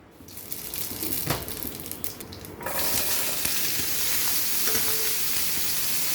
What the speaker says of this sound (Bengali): শুক্তা রান্নার জন্য তেলের উপর দিয়ে দেবো তেজপাতা আর দেবো রাঁধুনি